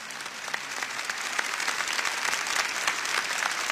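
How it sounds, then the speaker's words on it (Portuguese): Congregation at a Catholic church event applauding to welcome guests, a sustained moderate wash of many hands clapping that swells slightly and holds steady. "E eu peço carinhosamente que nós possamos acolher o Scott e também o Vini com uma salva de palmas."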